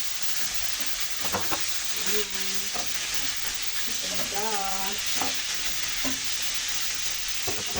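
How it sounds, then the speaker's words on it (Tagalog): Vegetables sauté in a pan with onion, tomato and garlic for a coconut-milk vegetable dish, a steady close sizzle with occasional spoon scrapes and a brief sliding tonal squeak midway, no talk. "Gisa ko na yung sibuyas at kamatis kasama ang bawang. Tapos ito na ilagay ko ng gulay."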